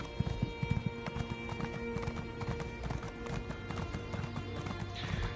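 Horse hooves clip-clop in the Elder Scrolls Online video game, a steady close trot with occasional whinnies over a soft game soundtrack.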